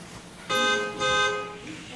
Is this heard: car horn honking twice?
yes